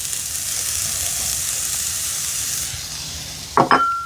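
Onion and half a red pepper sizzle steadily in a frying pan, a constant close hiss of frying with a brief clatter of stirring near the end; no one speaks.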